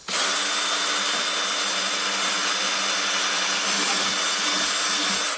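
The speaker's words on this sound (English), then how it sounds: "And I'm just going to drill into it." A power drill bores a hole near the bottom of a plastic container for a watering setup. A close, loud, continuous high whine runs steadily from start to finish.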